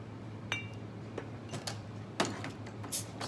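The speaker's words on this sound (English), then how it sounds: "fresh ice in the glass, and we're just pouring this nice coconutty drink" Fresh ice clinks against a glass as a coconut drink is poured over it for a ginger beer cocktail, giving a handful of sharp, scattered clinks over steady low background hum.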